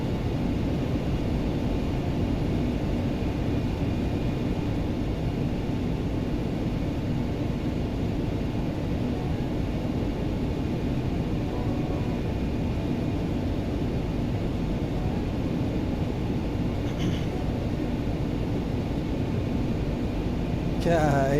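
An X-Crafts ERJ regional jet climbing in a flight simulator game, with a steady, loud cabin drone of engine roar and airflow that holds constant throughout and no talking.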